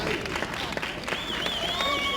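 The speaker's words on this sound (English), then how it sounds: "A little applause from the fans up here." Scattered clapping and crowd noise from fans at a high school soccer match, moderate and somewhat distant, with a whistle-like tone and faint talk in the background.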